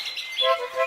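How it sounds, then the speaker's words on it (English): Yellow canaries chirping in brief, high tweets with a couple of sharp whistled notes, fairly close and alone. "The old man and the old woman kept 6 yellow canaries,"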